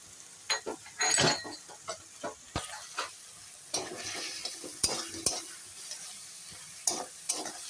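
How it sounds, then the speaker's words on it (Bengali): Spice powders and meat masala frying in a pan while being stirred, giving irregular scraping and clanking bursts of spatula against metal over a soft sizzle, close and fairly quiet. "ভালো করে এখন সুন্দর করে নেড়ে নিচ্ছি দেখো"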